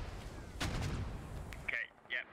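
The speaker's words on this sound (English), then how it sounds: "Liberal taken out by a mortar." A mortar explosion in the video game Squad, a single heavy boom with a rumbling tail, followed by brief lighter sounds.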